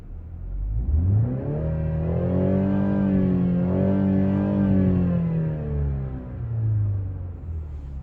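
A 2020 BMW 330i xDrive with a 4-cylinder engine revving in sport mode from inside the cabin, the tone rising and holding, easing off, then a smaller second rev, loud and close with no talking.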